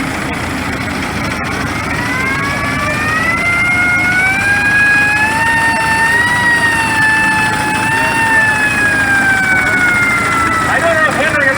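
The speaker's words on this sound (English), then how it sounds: "I don't know if Henry ever put that horn on his 42 Dodge Fire Truck" A loud, sustained horn-like fire truck siren tone drones steadily with slowly wavering pitch, held for the whole stretch over an engine rumble, during an old engine show parade.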